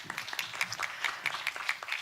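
An audience applauds for a performer's mother at a small live music event, brisk scattered clapping running continuously at moderate loudness, heard on its own.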